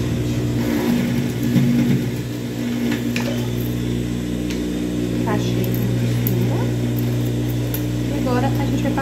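Sewing machine stitching a seam on a child's dress, a steady loud motor hum running throughout beneath someone speaking.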